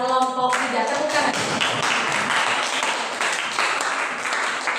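A classroom group claps together after a presentation, a burst of brisk, overlapping applause that starts at once and keeps going steadily to the end, fairly loud and close.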